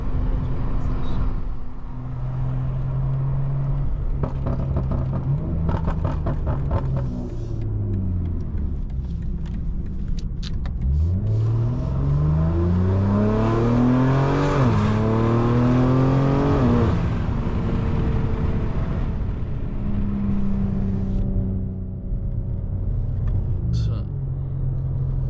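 A 2024 BMW G80 M3 Competition xDrive rated at 700 hp drives through downtown Tampa at night, its engine droning and rising through gears in sweeping revving pitch climbs, a loud continuous rumble heard from inside the cabin.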